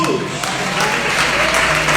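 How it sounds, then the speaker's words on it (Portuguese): Church congregation applauding in praise of Jesus during a Portuguese-language worship service, a steady dense wash of clapping filling the space at close range, with a voice faintly over it. "Aplauda o Senhor Jesus."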